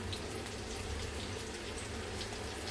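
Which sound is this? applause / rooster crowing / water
water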